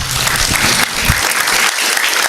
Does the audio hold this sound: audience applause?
yes